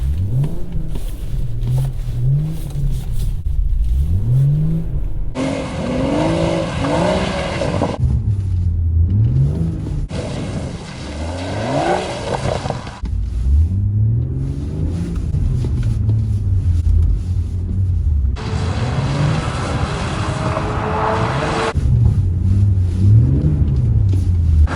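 A BMW M140i on a skid pan with traction control off, its engine revving hard in repeated loud surges and sustained high-rev bursts, rising and falling pitch throughout, close and continuous with no talk.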